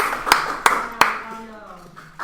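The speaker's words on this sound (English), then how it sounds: "Please, applause." A few sharp, separate hand claps in a classroom ring out in a quick, uneven rhythm near the start, then fade into a quiet room with a soft lingering tone.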